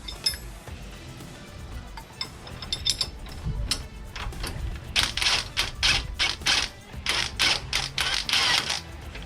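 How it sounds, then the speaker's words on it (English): A hand ratchet works loose bolts on a Toyota Tacoma's lower control arm during a Fabtech lift install, its clicking growing into fast, repeated bursts of close, crisp ratcheting over faint background noise. "I'm just gonna go ahead and take off the lower control arm now"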